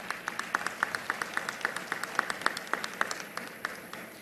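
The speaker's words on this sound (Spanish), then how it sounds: "Yo pido en primer lugar un aplauso para ustedes." Scattered, rhythmic clapping from an audience at a business council speech, with distinct individual claps over a quieter background wash and no voices.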